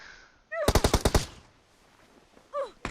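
Rapid automatic gunfire in the PUBG Mobile video game, a tight burst of about six shots followed by a single later report, loud and near, with faint tones between.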